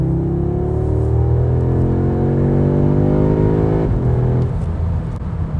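2021 Audi S3 accelerating hard in sport mode, a loud, close engine note rising steadily through the revs, then a quick gear shift drop before the tone climbs again.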